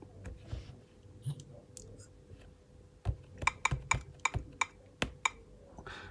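Quiet tapping on the touchscreen virtual braille keyboard of a Humanware BrailleNote Touch Plus, a series of soft clicks, sparse at first and then quicker, close up with no talking.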